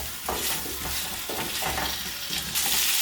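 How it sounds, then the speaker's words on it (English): Chopped green bananas stirred in a curry pan while the bottom is deglazed with leftover liquid, a loud close sizzle with repeated scraping strokes of the spoon across the pan, no voices. "we're going to sort of deglaze the bottom of the pan with the sort of remnants of the liquid the green bananas were in"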